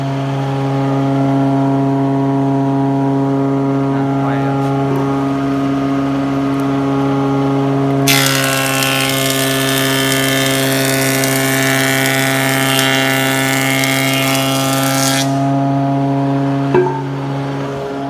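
A used Japanese 350 mm thickness planer hums steadily with a strong motor drone, then a loud rushing cut roars for several seconds as stock passes through before easing back to the idle whine.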